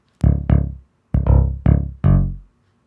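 A synth bass line from a track, played with its automation switched off: five plucked notes in a loose rhythm, each with a sharp attack and a fast decay, heard alone.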